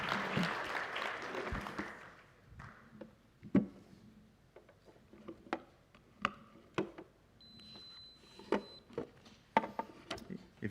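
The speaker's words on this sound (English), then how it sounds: "Give him a big round of applause." Sparse, scattered hand claps from a small audience at a hacker security conference, faint and irregular, single sharp claps spaced apart after a softer opening murmur.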